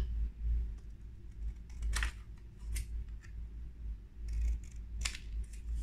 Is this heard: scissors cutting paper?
yes